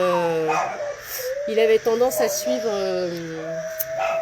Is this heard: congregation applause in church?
no